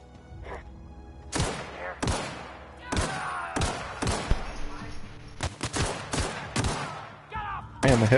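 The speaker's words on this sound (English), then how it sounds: "Man, the hip fire even feels good in this game." Hip-fired gunshots in The Outer Worlds crack out in irregular bursts, each loud and punchy with a short decay, spaced by brief gaps amid quieter game ambience.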